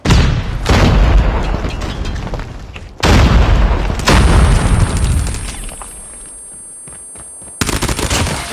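Grenade explosions in Call of Duty, a ranked Search & Destroy match: three loud, close booms with heavy low rumble, each decaying over a couple of seconds, with gunfire-like crackle between them.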